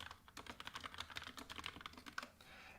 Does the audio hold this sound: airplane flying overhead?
no